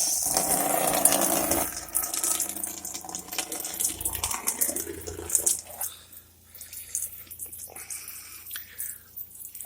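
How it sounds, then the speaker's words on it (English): A cheap shop-built flood coolant pump sprays coolant in a continuous splashing, trickling stream onto a machine. It is close and fairly loud, then briefly tapers before resuming, with no voices. "So there's flood coolant."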